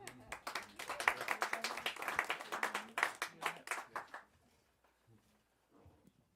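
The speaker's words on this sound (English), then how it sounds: "Give yourselves a round of applause" A small group claps at a casual show gathering, quick distinct handclaps for about four seconds that stop abruptly, followed by near silence with faint background sounds.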